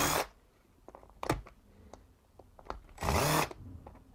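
A screwdriver working screws out of a computer keyboard, with two short loud whirring bursts at the start and near the end, separated by quieter clicks and handling noises close by.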